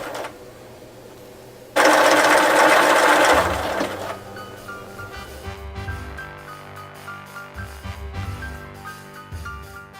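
A sewing machine stitches along a fabric edge of a tulip circle skirt, with a loud whirring burst early and then shorter bursts of motor hum and needle chatter.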